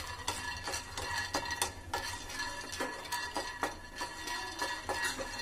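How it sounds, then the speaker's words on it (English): Raw peanuts are dry roasted in a pan, stirred with sharp, irregular clatters and rattles against the metal over a faint, steady background hiss. "dry roast the raw peanut"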